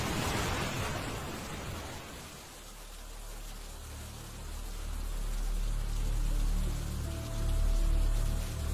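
Steady thunderstorm rain hisses across surfaces, with a deep low rumble of thunder swelling underneath as the storm grows louder.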